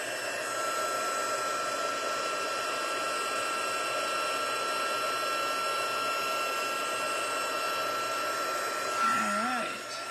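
A heat tool for embossing blows a steady, loud whooshing hum on its higher setting, continuous and close, with a brief voice near the end.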